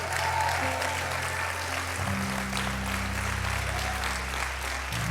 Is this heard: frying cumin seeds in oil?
no